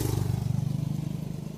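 A motorbike engine on a street in Bali putters close by with a rapid, even pulsing throb, steady and fairly loud for the whole short stretch.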